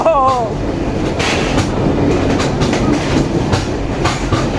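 A Kolkata to Dhaka passenger train rattles loudly on the tracks from inside a carriage, with continuous rumble and repeated clattering wheel clicks, and a brief voice at the start.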